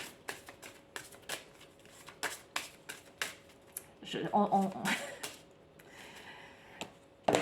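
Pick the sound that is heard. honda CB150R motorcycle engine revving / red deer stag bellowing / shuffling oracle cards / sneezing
shuffling oracle cards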